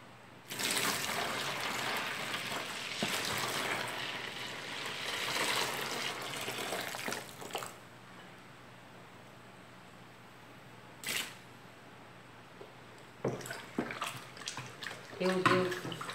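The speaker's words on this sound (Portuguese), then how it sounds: "Vou terminar de colocar aquela água morna," Warm water is poured into a batch of homemade liquid soap, a loud splashing rush that runs for several seconds and then thins out, followed by brief knocks and handling sounds.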